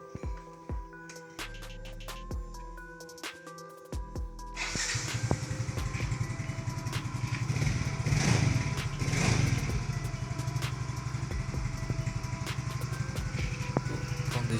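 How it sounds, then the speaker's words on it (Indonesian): A 2013 Yamaha Mio J motorcycle engine, tested on a used motorbike for sale, first ticking and sputtering briefly, then catching into a steady close idle with a rapid, even putter that swells slightly as it is revved and then settles. "Untuk ini Yamaha Myoji tahun 2013. Oke, kita cek sound."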